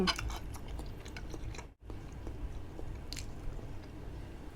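Close, crunchy biting and chewing of a spicy Thai salad with crab, fried pork, pork balls and instant noodles, steady moist mastication with a brief silent gap midway and no talking.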